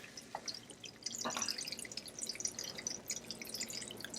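Water drips from warm egg molds lifted out of a water bath while making sausage and egg biscuits, giving a scatter of small, close drips and trickles with one stronger splash near the middle and no talking.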